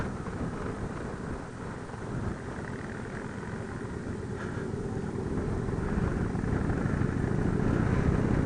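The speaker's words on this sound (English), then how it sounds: "Every Indian except the Scouts uses the Thunderstroke 111 cubic inch engine." A 2017 Indian Roadmaster motorcycle with the Thunderstroke 111 cubic-inch engine rumbles along on a ride, a continuous low engine drone mixed with wind that swells gradually louder toward the end.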